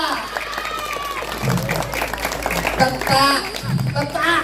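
Scattered clapping and crowd noise break out under loud speech and music at a Bujang Ganong comedy performance, swelling in short bursts rather than a sustained ovation.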